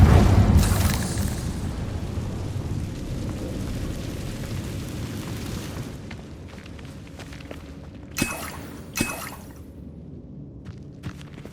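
An Incendio fire spell goes off in Hogwarts Legacy with a heavy rumbling whoosh of flame that is loudest at the start and slowly dies away, followed by two sharp crackling bursts later on.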